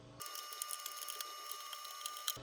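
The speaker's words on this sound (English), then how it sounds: "now I'm just going to trim that away, Dremel it, and be ready to go" A Dremel rotary tool trims a plastic Stormtrooper costume ab armour piece, giving a steady, high-pitched whine for a couple of seconds on its own.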